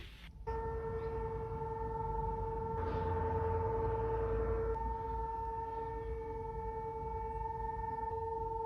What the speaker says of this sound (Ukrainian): Повітряна тривога, повітряна тривога.